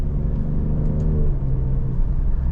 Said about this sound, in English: You're getting a 505 horsepower twin turbo V6 SUV that sounds this good